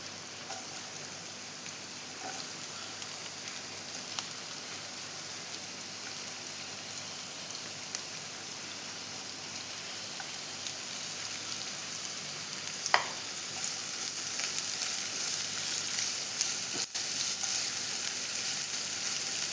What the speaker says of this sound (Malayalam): വെളിച്ചെണ്ണ കാഞ്ഞു വരുമ്പോൾ നമുക്ക് സവാള ഇട്ട് കൊടുക്കാം.